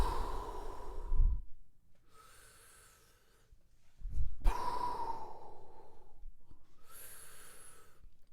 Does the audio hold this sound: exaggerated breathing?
yes